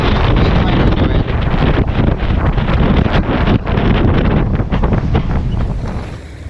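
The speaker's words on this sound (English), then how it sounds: "This is the kind of wind we were supposed to have on our way down" Strong wind of about 10 to 15 knots buffets the microphone on a sailboat under way, a loud continuous roar with gusting rush and water noise, no talking.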